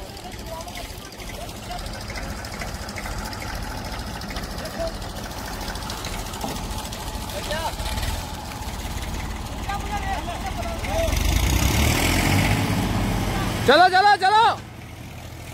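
A Mahindra 265 DI tractor engine chugs steadily while reversing in a wet field, growing louder midway, with a man calling out over the engine.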